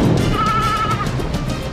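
A sheep lets out a loud, close bleat lasting under a second over a rough, noisy background.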